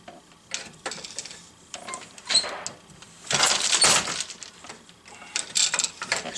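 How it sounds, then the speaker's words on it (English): Hand weaving the last inches of a variegated prayer shawl on a loom: irregular wooden clacks, thumps and sliding shuttle rustles come in bursts and pauses, close and fairly crisp. "now we'll go around the front and try weaving the last couple inches."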